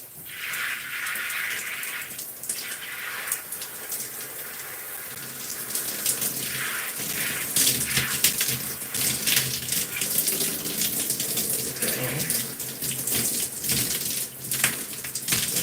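Water streams steadily from a tap over hair as shampoo is rinsed out, a continuous close splashing gush with shifting texture as the flow hits the head and hands.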